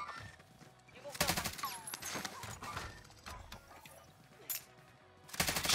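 Covering fire in a French-language shooter game: a rapid run of gunshots in several bursts, moderately loud, with players' voices and other game sounds mixed in.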